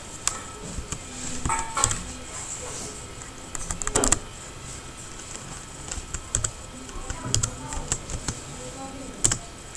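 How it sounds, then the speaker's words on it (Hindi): A computer keyboard clatters as someone types in Microsoft Office, with irregular bursts of close, crisp key clicks and a few heavier strokes. Faint speech sits in the background. "कुछ इसमें टाइप करेंगे"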